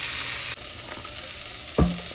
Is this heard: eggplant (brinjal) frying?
yes